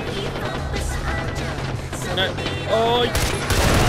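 Gunfire from a gun pulled from under a car dashboard in Far Cry 4, with loud bursts of shots over engine rumble and excited voices talking over it.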